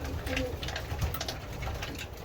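Racing pigeons coo softly nearby while competing for food, a short murmur of bird calls over a low rumbling background.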